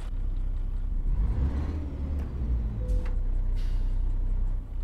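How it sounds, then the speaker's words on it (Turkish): A steady, low truck engine rumble from the video game Euro Truck Simulator 2, a MAN 32.270, drones throughout, loud and continuous, with a faint whine riding on top. "Motor sesini aşırı alıyor."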